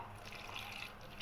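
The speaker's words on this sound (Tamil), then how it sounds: "லேசாக தண்ணி ஊற்றுவோம்." A brief, soft trickle of water being poured into kadamba sadam, quiet and steady over a faint hiss.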